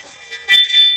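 A Ring security camera chimes a short, bright electronic alert of a couple of tones, moderately loud and close, over quiet room background.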